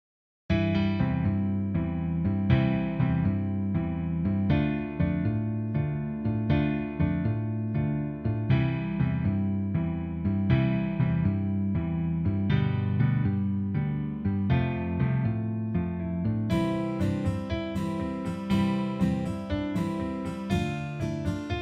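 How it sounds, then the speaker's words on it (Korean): Instrumental background music track with a steady beat and bass plays continuously, fairly quiet, with brighter upper layers joining near the end. "오디오 프로그램을 이용을 해서 음악을 먼저 들어보겠습니다."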